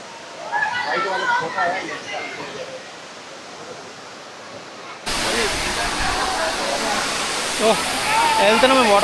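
Tirathgarh waterfall in Chhattisgarh, a broad steady roar of falling water that jumps abruptly louder halfway through, with voices talking over it.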